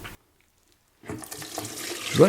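Grated celeriac drains in a kitchen sink: after a brief silence, water suddenly runs and splashes nearby, growing louder and sloshing toward the end.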